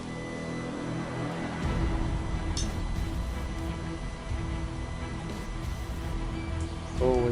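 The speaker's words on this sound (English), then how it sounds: "you can hear the printer going off in the background because it's always churning something out." A 3D printer runs steadily in the background, giving off a continuous low mechanical whir with faint tonal motor whine and a few soft clicks throughout.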